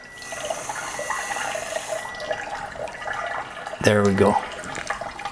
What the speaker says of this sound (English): I'm also going to fill this with tap water